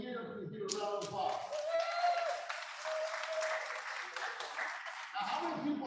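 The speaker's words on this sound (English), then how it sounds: "Please give a round of applause" Audience clapping at a real estate firm's first annual company meeting, steady and fairly close throughout, with voices and cheering mixed in over the clapping.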